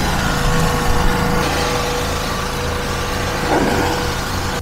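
A replacement pressure washer pump runs on test with a leaking hose fitting, giving a steady, loud engine-driven drone with a constant rumble throughout.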